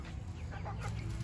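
Backyard chickens on a small home farm give soft, scattered clucks at a moderate distance over a steady low background hum.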